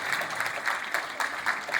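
Audience clapping at a book launch event, a short burst of fairly dense applause with rhythmic hand claps, close and lively.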